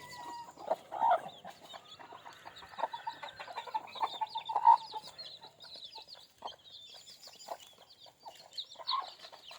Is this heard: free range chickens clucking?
yes